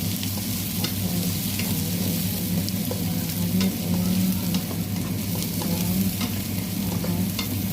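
Garlic browning in a pan for chicken adobo gives a steady, close sizzle with occasional stirring scrapes and crackles, continuous throughout without talk.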